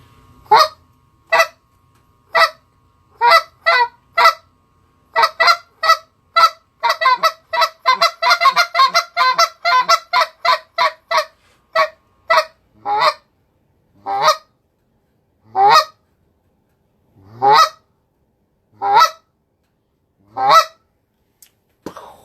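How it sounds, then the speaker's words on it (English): Soft, subtle goose notes blown on a Goose Rhythm call, a steady string of short honks that bunch into quick rapid clucks midway, then spread out into slower, spaced calls, close and clear with no talking. "just hit them with some soft, subtle, goosey notes with Goose Rhythm"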